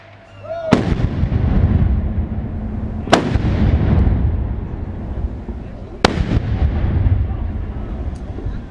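Ceremonial cannons fired in a salute by shooting club members at a Saxon shooting-club meeting: three loud, booming single shots spaced a few seconds apart, each followed by a long rumbling echo, with a voice and crowd murmur around them.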